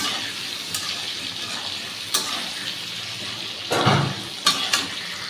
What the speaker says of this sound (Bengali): তা আলুটাকে আমি ভেজে নিচ্ছি